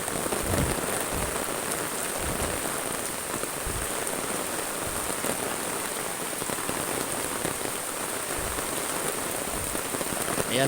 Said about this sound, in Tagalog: Tuloy-tuloy pa rin ang ulan, ang lakas.